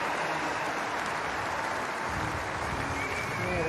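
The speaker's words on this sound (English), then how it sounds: "The crowd here in Birmingham supporting our athletes as they leave the track." Birmingham stadium crowd at the 2022 Commonwealth Games applauding athletes as they leave the track after a women's 100m heat, a steady, broad wash of clapping and crowd noise that swells slightly toward the end.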